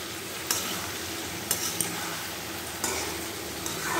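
Ridge gourd frying in a pan with salt, stirred steadily, giving a dense continuous sizzle broken by a few sharp utensil scrapes and taps against the pan, close and loud, with no talking.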